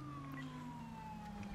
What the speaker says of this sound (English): not yielding to lights and sirens